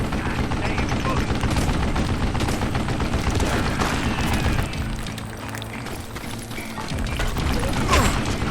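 Loud, dense gunfire in the Western shooter Call of Juarez: Gunslinger, rapid shots and bursts piling up across the whole stretch with a brief dip near the end, mixed with game speech.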